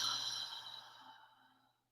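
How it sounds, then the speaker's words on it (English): A single long, breathy exhale out through the mouth during a yoga breathing exercise, soft and close, fading out gradually over about two seconds. "Exhale out the mouth."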